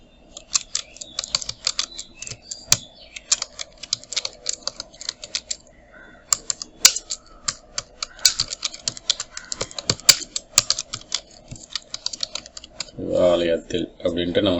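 Rapid keystrokes on a computer keyboard while text is entered for a Photoshop banner design, steady clicking with brief pauses, close and clear, ending with a short burst of speech.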